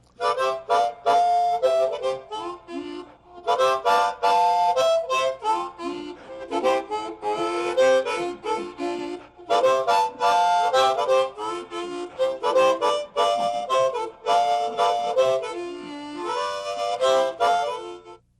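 A chromatic harmonica plays a bluesy line in phrases with short pauses, loud and close, with no talking.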